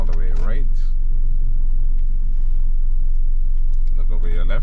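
A car idles and rumbles steadily while being put into reverse during a Florida driving test, a low continuous engine hum running under an instructor's voice at the start and end.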